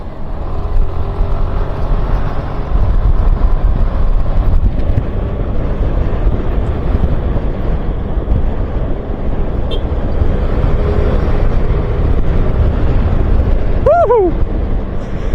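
A motorcycle ride on a road near Kamilingan Sur, with a steady loud rush of engine and wind buffeting the microphone throughout and a brief higher tone near the end.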